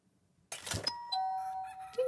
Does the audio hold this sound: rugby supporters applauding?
no